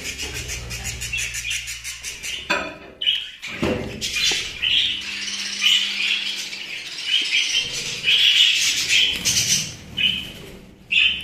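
Dense, continuous high-pitched chirping and twittering from a flock of budgerigars, close by, with a few soft rustles and flaps.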